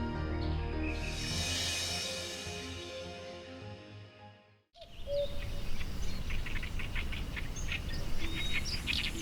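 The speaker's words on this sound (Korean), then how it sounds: "아름다운 새소리가 아침을 여는 화성습지" Birds singing at dawn in the Hwaseong wetland, with scattered chirps and calls rising after a sustained musical passage fades out. The birdsong is moderately distant over a soft outdoor hiss.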